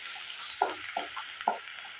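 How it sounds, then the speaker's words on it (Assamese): Chopped onion, ginger and garlic spice paste frying in a pan, a faint steady sizzle with three or four soft stirring scrapes spaced about half a second apart. "পিঁয়াজ, আদা, নহৰু গোটেই এই মছলাখিনি ভালদৰে ভাজি ল'ব"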